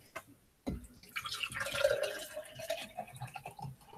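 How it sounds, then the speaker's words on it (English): A drink poured into a glass at close range: after a brief quiet start, a trickling, splashing stream of liquid runs steadily for several seconds, the pitch of the fill shifting as the glass fills. "I'm going to pour myself another one."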